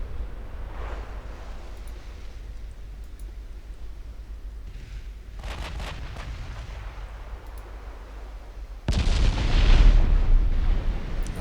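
Naval shells burst against a battle cruiser in the warship game Ultimate Admiral Dreadnoughts, heavy rumbling explosions rolling through the mix, with a loud sustained blast erupting near the end and lingering.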